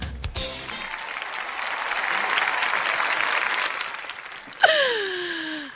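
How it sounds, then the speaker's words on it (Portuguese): A crowd applauds steadily for several seconds, a broad wash of clapping that swells and then fades, followed by a sharp vocal cry at the end. "Com muitas palmas eu recebo a Thaís Lima."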